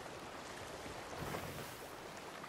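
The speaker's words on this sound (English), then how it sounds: "There is a gust coming from the north, which means I should have a good chance." Wind gusts over the open sea in the Sea of Thieves pirate game, a steady broadband rushing with a slight swell near the middle, fairly faint and without voices.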